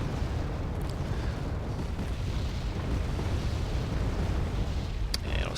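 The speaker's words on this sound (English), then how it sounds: "some more artillery coming in" Artillery fire in the strategy game Wargame: AirLand Battle, a continuous low rumbling of distant shelling and explosions, with a couple of sharp clicks near the end.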